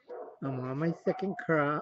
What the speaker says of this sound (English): that's neighbor's doggies barking